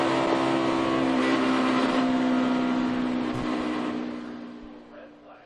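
A NASCAR stock car crashes during a race, about 3,400 pounds of metal flying into the air; dense, loud roaring crowd-and-engine wash holds steady, then fades away over the last second or two.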